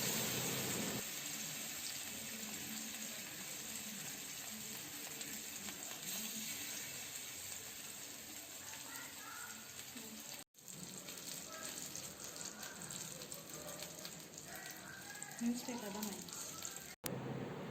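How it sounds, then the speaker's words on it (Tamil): Fish frying in a pan of hot oil over a low flame gives a steady, dense sizzle that runs throughout, close and fairly loud, with brief dropouts and soft handling noises on top. "இப்போது அடுப்பை லோ ஃப்ளேமில் வச்சு மீனை பொரிச்சு எடுத்துடலாம்"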